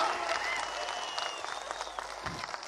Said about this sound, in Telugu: మీరందరూ చప్పట్లతో ఆమోదం తెలపండి